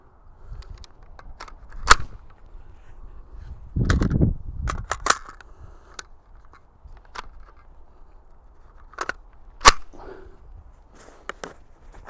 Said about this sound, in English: That's a little bit more pew, so that's probably supersonic